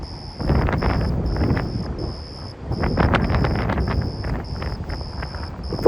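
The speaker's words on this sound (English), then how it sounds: "it's so flat and so windy" Gusty wind buffets the microphone at night in flat, open land beside a casino where a camper van is parked. Two long rumbling surges rise and fall, with a faint steady insect-like tone pulsing above them.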